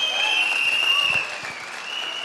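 An audience at a Vestige company gathering claps for Gautam Bali, a dense burst of applause from a crowd that slightly thins and softens toward the end, with no voices over it.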